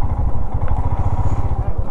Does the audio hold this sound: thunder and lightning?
no